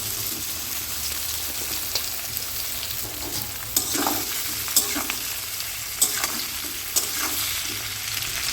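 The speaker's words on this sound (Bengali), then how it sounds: "আদা আর রসুনটাকে প্রথমে একটু ভেজে নিতে হবে" Ginger, garlic and amla pieces fry in an oiled pan, a steady close-up sizzle punctuated by several sharp clacks and scrapes from stirring.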